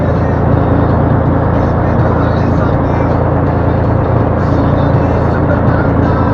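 A Kirovets K-701 tractor driving out to a field: a loud, continuous diesel engine drone with steady low rumble and no breaks, heard close from the cab.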